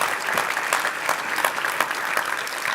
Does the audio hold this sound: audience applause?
yes